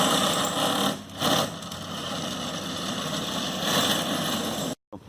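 A small motor drives a Razor Drifter trike with 3D printed wheels at partial throttle, a loud steady buzzing whine that dips briefly twice before cutting out near the end.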